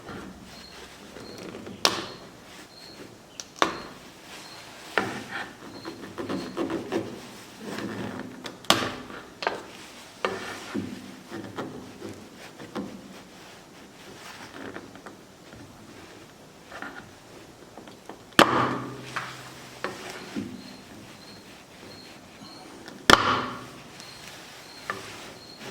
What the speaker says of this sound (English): slide it underneath the block of glue, pop it off. But be very careful not to push your chisel into the side of your bowl.